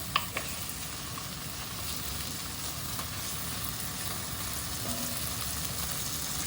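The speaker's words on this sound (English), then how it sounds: "we're going to let this bacon sizzle until it gets nice and crispy" Bacon sizzling and crackling steadily in a hot pan for a beef, mushroom and Guinness pie, a constant close hiss with a couple of brief clinks at the start.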